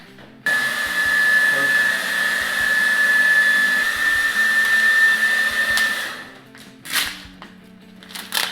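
A heat gun blows steadily on vinyl wrap over a car roof, a loud continuous whine with a thin steady tone that cuts out near the end, leaving quiet handling noises.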